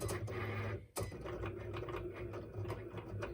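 A Cricut Explore Air cutting machine runs a test cut, giving a close, steady motorized whir and buzz with rhythmic mechanical ticking and a brief pause near the start.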